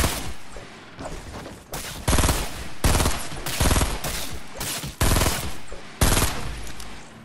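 Gunfire rings out in the Fortnite Battle Royale video game, loud rapid bursts of automatic fire broken by short pauses, close and dominant with no talk.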